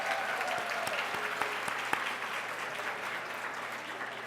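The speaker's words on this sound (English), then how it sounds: "Let's give the staff a big, big round of applause, please." An audience at a women's day breakfast event applauds the staff, a steady, moderately faint wash of clapping with a few sharper nearby claps standing out early, continuing evenly throughout.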